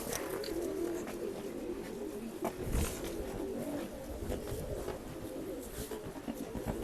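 Kare dhuma pigeons cooing softly and repeatedly in a loft, close but fairly quiet, amid faint rustling background noise.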